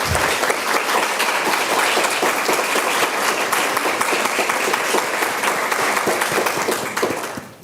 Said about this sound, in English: let's give an applause to our excellent panelists at this point